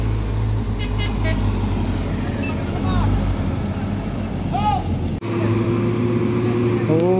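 Hino truck grinding up the steep Batu Jomba hill, its low engine rumble steady amid roadside traffic, with a few horn toots and people talking nearby.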